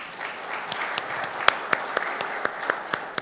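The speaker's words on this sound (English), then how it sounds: "and a loud cheer for that" Audience applause at the PALM Sound & Light Awards ceremony: a short, dense burst of many hands clapping in a hall, with a few sharper individual claps standing out.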